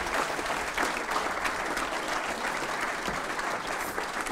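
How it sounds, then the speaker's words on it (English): An audience at an evening panel discussion on the economy at Pakhuis de Zwijger gives a round of applause, a steady and fairly faint patter of many hands clapping with no talking. "applause for these two people"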